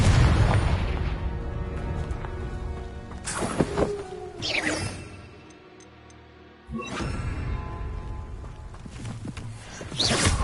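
Confringo fire spell explosions in Hogwarts Legacy on PS5, a series of loud, booming blasts with crackling bursts and rumble, separated by a brief quiet pause.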